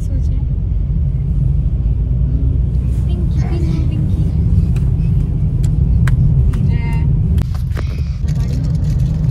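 Car interior rumble while driving on a sunny day with a family and three children in the back seat, a steady engine drone with small clicks and bumps as people talk over it.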